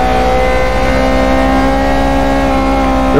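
A Kia Cerato engine in the Assetto Corsa racing game drones steadily in a high gear, holding a loud, continuous tone with rising harmonics throughout and no voices.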